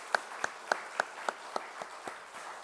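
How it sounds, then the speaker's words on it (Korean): A church congregation gives a round of thanks, sparse and quiet: about nine separate claps at an even pace, fading slightly toward the end. "우리 감사의 박수를 힘차게 함께 올려드리겠습니다"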